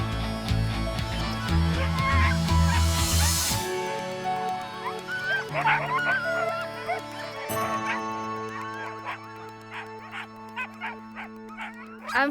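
Several sled dogs barking outdoors in an Arctic setting, a busy overlapping chorus of yaps and howls that starts loud and dense, then thins into scattered calls and short barks over the rest of the stretch.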